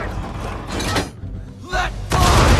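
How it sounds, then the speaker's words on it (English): Broadside cannon fire from a sailing warship in Assassin's Creed 3, heavy booming blasts in short succession with rumbling decay, the loudest coming at the end, close and forceful. "Bring her round broadside, and when all guns are on target, call fire"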